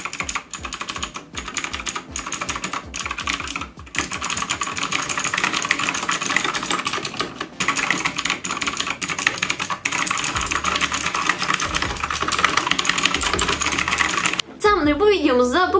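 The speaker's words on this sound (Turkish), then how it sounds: "Klavyenin ses testi ASMR'ına." Rapid typing on a metal-bodied mechanical gaming keyboard, a Rampage KB-R19 Manly, dense clacky keystrokes in bursts and steady runs, close and loud, with no talking.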